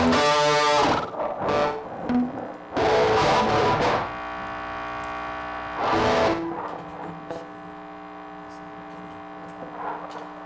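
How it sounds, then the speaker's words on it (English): An electric guitar played through a noisy distortion pedal strums loud, fuzzy bursts with a constant buzzing hum between them and ringing sustained notes that slowly fade. "That noisy distortion pedal."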